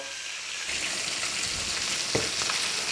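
Potatoes fry in a pan with a steady, dense sizzling hiss that rises slightly and holds, close and fairly loud, with a faint clink near the end.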